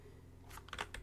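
Typing on a computer keyboard, a short run of quick, light key clicks close by, faint and alone.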